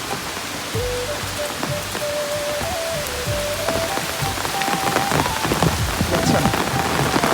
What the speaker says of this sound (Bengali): এটা হচ্ছে বৃষ্টির একদম ন্যাচারাল সাউন্ড।